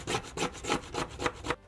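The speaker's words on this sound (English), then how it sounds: "use the very back end of this long drill bit here as kind of a chisel to clean up my groove" A long drill bit's back end is used like a chisel, scraping out a groove in wood for a wizard tobacco pipe: six rhythmic, close rasping strokes at a steady pace, with no voices.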